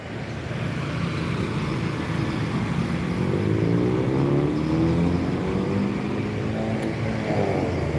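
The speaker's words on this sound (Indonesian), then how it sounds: "Menunggu bus datang dari Pulau Jawa atau dari Sumatera dan truk-truk lewat." Heavy vehicles, buses and trucks, rumble past the Palembang bus terminal at kilometer 12, a steady loud traffic roar with engine drones rising and falling as they pass close by.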